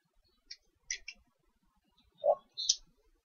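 Computer mouse clicking a handful of times in short, sparse bursts, close and quiet in an otherwise silent room.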